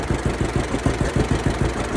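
A 1952 tractor engine idles with a steady, loud, low chugging pulse, firing in even rapid beats close by with no talk.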